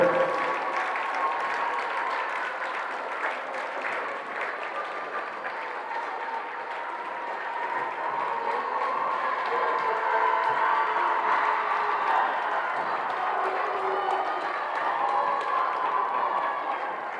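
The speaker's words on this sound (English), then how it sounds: "Let's give a big round of applause to our Benet Academy Lady Red Wing seniors and their parents." Crowd in a gym at a high school girls varsity basketball game applauds and cheers the seniors and their parents in a sustained, even ovation of many hands, with no talk over it.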